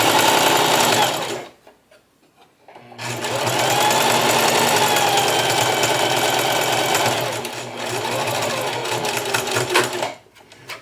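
Sewing machine stitching a T-shirt neck band at a 1/4 inch seam allowance while the fabric is stretched, running in loud bursts with a brief stop near the start and another near the end.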